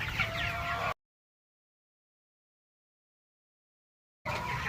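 Chickens cluck in short bursts at the start and end, separated by a long stretch of silence.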